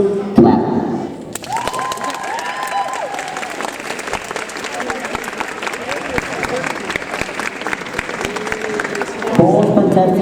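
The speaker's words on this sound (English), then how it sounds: "You may take your seat as our students clap." Applause from a group of students, steady clapping that carries on for several seconds, with a voice heard briefly at the start and end.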